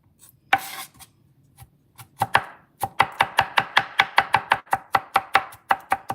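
Broccoli is chopped with a knife on a cutting board: sparse knocks at first, then a fast, steady run of sharp, close chops that continues to the end.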